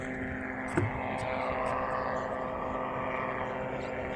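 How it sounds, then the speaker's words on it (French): A helicopter flies overhead beside a pebbly, stony shore, making a steady broadband drone with a low rotor rumble. The sound stays loud and continuous throughout, with a brief thump near the start. "Ah, un hélicoptère."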